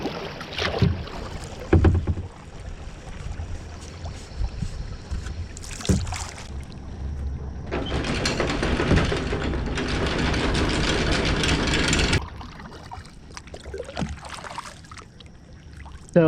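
A kayak moves on the Great Dismal Swamp Canal while a stern anchor is dropped from a sailboat, with intermittent knocks and splashes, then a long steady stretch of water and wind noise before quieter scattered handling sounds.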